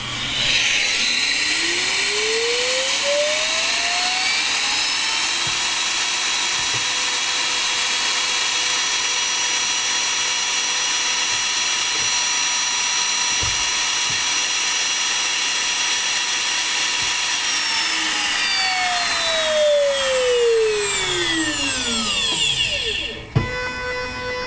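A high-pitched CNC router spindle motor whines up to speed, runs with a steady drone and faint mechanical ticks, then winds down, ending with a sharp clunk.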